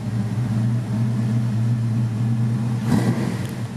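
A 1970 Ford Mustang Fastback, Parnelli Jones Edition, idles with a steady, deep engine rumble that swells into a brief rev near the end, close and loud with no talk.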